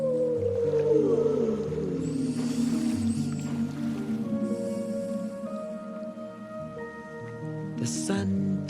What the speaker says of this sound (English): Eily Whale sings a precious song as you sail on the Lullaby Lake.